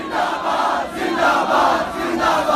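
A large protest crowd in the street chants religious slogans in unison, a loud, continuous roar rising and falling in rhythmic waves.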